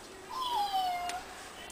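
A cat gives a single clear meow, a drawn-out falling cry lasting under a second, fairly close and alone against a quiet background.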